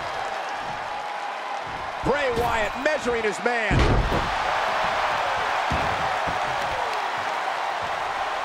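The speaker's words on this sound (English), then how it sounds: "Wyatt's starting to get the crowd involved." Arena crowd noise from a WWE 2K24 Money in the Bank World Heavyweight Championship match in the wrestling video game, a steady roar under someone commentator's voice, with a few thuds and a short swell partway through.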